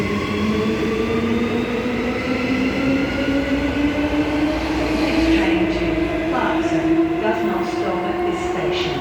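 Electric multiple unit trains pass through Currambine station on a service to Butler, a loud, sustained rising whine of traction motors with rumbling wheels and brief clatter toward the end.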